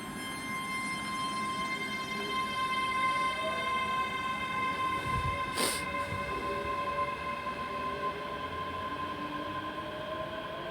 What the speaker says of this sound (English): With the Class 385 units now departing.